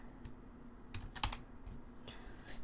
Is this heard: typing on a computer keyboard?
yes